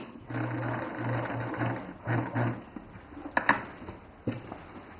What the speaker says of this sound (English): now I'm going to go back over that stitch all the way around